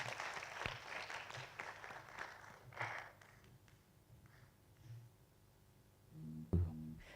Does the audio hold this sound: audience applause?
yes